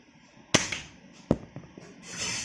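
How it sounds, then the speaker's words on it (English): Two sharp, close pops from a toy gun firing at slime frozen in ice, roughly a second apart, each with a brief crackle, followed by a soft rising hiss. "Let's try to shoot it out."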